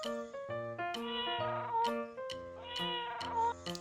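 Cat meowing in a string of tonal, sing-song calls, several rising and falling meows in quick succession, clear and close with no talk.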